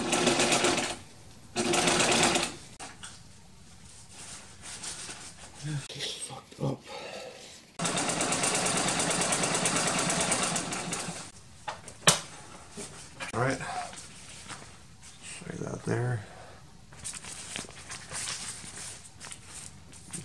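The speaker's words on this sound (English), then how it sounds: "let me sew the bottom on for you" A sewing machine stitching the bottom seam of a roll-top stuff sack, running in several loud whirring bursts separated by pauses with small handling clicks and fabric rustles.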